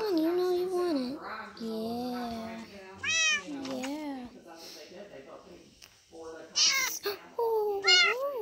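A mother cat meows repeatedly in rising and falling wails, close and fairly loud, while a person talks to it in between.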